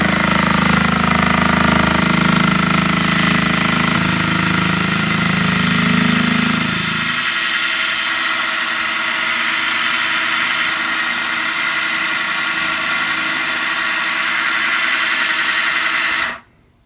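A Model 6450 mini mill spindle runs at about 1500 RPM with a steady whine; a louder low hum drops away partway through, the motor keeps droning evenly, then cuts off abruptly near the end.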